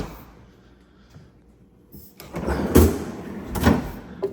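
A freezer door slides and thumps open with a soft seal release, followed by a couple of dull bumps and rattles nearby.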